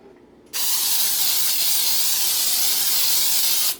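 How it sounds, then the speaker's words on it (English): Baking spray with flour released from an aerosol can in a home kitchen, one continuous loud hiss lasting about three seconds after a short quiet start, then cutting off. "And I'm going to use that same baking spray with flour."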